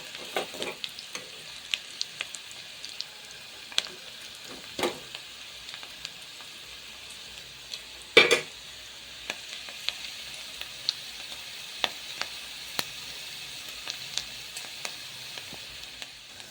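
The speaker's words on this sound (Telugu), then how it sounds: "ఆనియన్స్ బాగా ఫ్రై అయిన తర్వాత" Onions frying in a pan for an Andhra-style spinach dal, a steady soft sizzle with scattered crackling pops and one sharper clatter midway, no voices.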